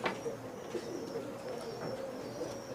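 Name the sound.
pigeon cooing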